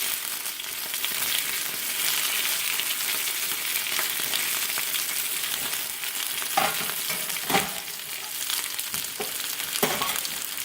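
Home fries potatoes frying in a pan, a steady dense sizzle broken by a few scraping stirs and clacks in the later seconds, close and alone without speech.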